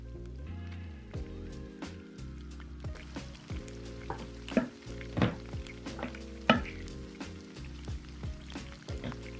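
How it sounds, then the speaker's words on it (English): A dish with a blob of yogurt stirred in, cooking in a pan, giving a quiet bubbling sizzle with repeated sharp clinks and scrapes of stirring, fairly close, no talk. "So whilst that's simmering away"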